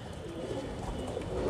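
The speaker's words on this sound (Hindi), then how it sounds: "और माशाल्लाह ये बाजरा कबूतर है," A Bajra pigeon, a big-headed show bird kept in a loft in Jaipur–Tonk, coos low and steadily, faint and fairly close, with a soft continuous murmur in the background.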